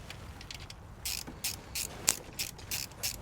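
A ratchet wrench loosens a valve cover bolt on a Suzuki Wagon R engine, giving short bursts of quick metallic clicking in uneven spurts, close to the microphone with no talk.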